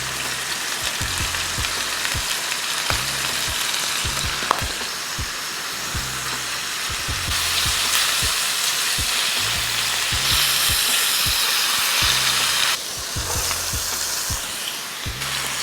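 Seasoned ground beef with Sazon searing in a skillet, a loud continuous sizzle with repeated rhythmic scraping and pressing of a spatula against the pan, steady and close throughout.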